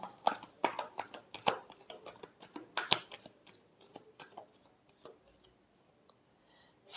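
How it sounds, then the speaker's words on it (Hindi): Tarot cards are shuffled by hand in a quiet room, a quick run of crisp riffling snaps and slaps that fades into softer, scattered taps and rustles. "Last shuffle."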